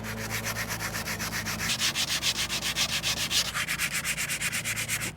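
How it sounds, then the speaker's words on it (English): Sandpaper of 220 grit rubbed by hand across an aluminum Toro Super Recycler mower deck, rhythmic back-and-forth rasping strokes, close and loud, repeating steadily with no voice. "Now what I'm gonna do is take some sandpaper."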